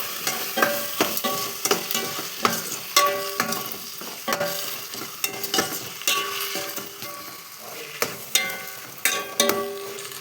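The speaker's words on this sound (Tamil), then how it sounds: "கொஞ்சம் வதக்கி விட்டுக்கலாம்." Rice masala with salt, chilli and turmeric is sautéed for a soy-chunk (meal maker) rice, with repeated scraping stirs cutting through a steady close sizzle and no talking.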